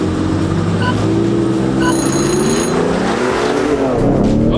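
A tuned Ford Raptor pickup launches from a drag-race start, its engine revving loudly with rising tones as it accelerates away, steady and close throughout.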